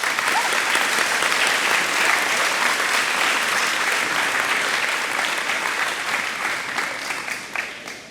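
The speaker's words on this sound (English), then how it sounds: "So let's give them a round of applause." A school crowd at a middle and high school spring sports awards ceremony applauds the tennis teams, sustained close clapping from many hands that holds steady and then fades out near the end.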